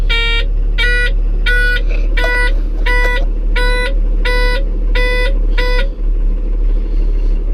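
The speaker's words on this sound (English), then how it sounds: "That's the brake pressure warning light that was beeping at me." A wheel loader's brake pressure warning sounds as a steady series of about nine loud, evenly spaced electronic beeps over the constant low rumble of the idling engine, then stops while the engine keeps running.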